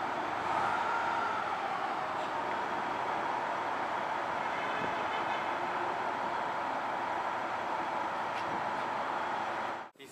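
A Washington DC Metro train runs with a steady, droning rumble and a high whine, loud and continuous for about ten seconds before stopping abruptly.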